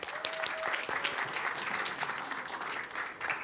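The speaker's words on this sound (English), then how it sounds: "I would like to give one more round of applause to all of our recipients this year." A round of applause at a city council meeting for award recipients, with steady, moderately quiet clapping from a seated room that holds evenly throughout.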